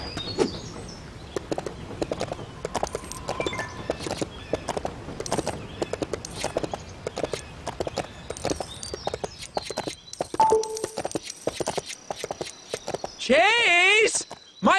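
A horse's hooves clip-clop in a steady walking rhythm in the LEGO City Undercover video game, with bits of game music and effects around it and a rising, whinny-like call near the end.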